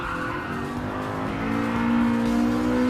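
A Honda Integra race car's engine drones steadily at high revs in Gran Turismo Sport during a front-wheel-drive challenge race, a sustained, slightly rising engine tone with no voices.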